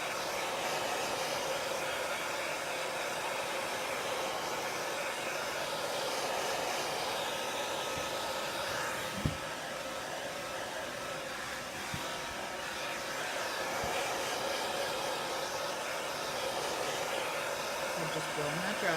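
A hair dryer blows steadily and close by for the whole stretch, a broad even rushing roar drying a chalkboard paint transfer, with a couple of faint knocks midway.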